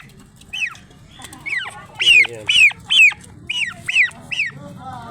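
Turkeys at feeding time give a series of loud, close, rising-and-falling gobbling calls, about eight bursts in quick irregular succession over a low background hum.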